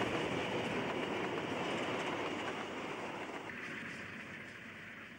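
Steam locomotive 3224 hauling the Sundays-only Moss Vale to Sydney service across Wingecarribee Viaduct in New South Wales gives a steady, loud rumble with rail clatter that eases slightly toward the end, with no talk.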